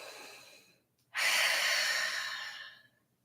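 A single deep breath during a yoga class in warrior two pose: a quiet inhale, a brief pause, then a long, breathy exhale that slowly fades, close and alone.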